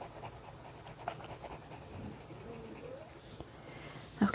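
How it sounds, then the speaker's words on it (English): A pencil lightly colours on paper during a beginner flower drawing, soft, faint scratchy strokes that come in short rhythmic passes, quiet and close, with a few small taps and no speech. "I'm pressing down really, really light because I don't want to break the tip of my pencil"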